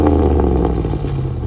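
A Dodge Ram 1500 pickup with a side-dump exhaust revs, its rumbling engine rising and falling in short bursts with some rattly clatter, loud and close.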